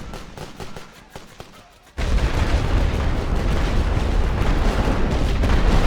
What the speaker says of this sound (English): Équipe, tir de barrage avec cette artillerie.